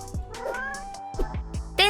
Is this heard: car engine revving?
no